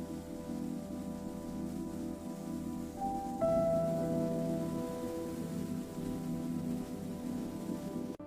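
Gentle rain falls steadily outside a village kitchen where cooking is underway, a constant soft hiss of drops on surfaces with a low steady hum underneath throughout.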